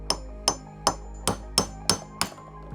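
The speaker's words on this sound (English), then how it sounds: "I'm just gonna use a punch and a hammer." Repeated sharp hammer blows on a metal punch, knocking bearings out of a bicycle part: seven evenly spaced ringing clanks, close and loud, with no talking.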